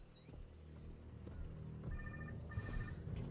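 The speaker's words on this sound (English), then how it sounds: "Someone's ringing." An in-game telephone rings twice in Jurassic World Evolution 2, two short electronic ring bursts at moderate level over steady low game ambience and music.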